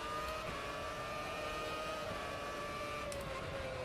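An open-wheel race car engine from an F1 2006 car in Automobilista 2 drones steadily at high revs, a continuous tonal whine heard alone at low level.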